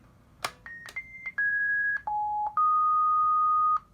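Roger beep from a CB radio microphone, a Sadelta Echomaster Pro set up on a 955 radio: a few short clicks followed by a steady run of stepped electronic tones, each held a moment before the pitch drops or rises, ending in a long sustained tone.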